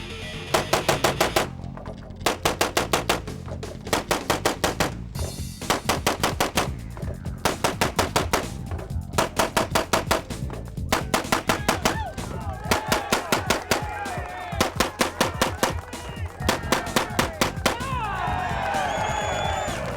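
Rapid gunfire as a shooter fires 60 shots from ten guns in about 17 seconds, loud close bursts of sharp shots in quick strings separated by brief pauses while guns are switched, with faint crowd noise near the end.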